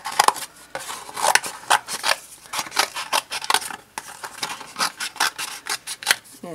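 Scissors snip out a circle of material for a ribbon sculpture hair clip, a steady run of short, close, crisp cuts in an uneven rhythm with no talking.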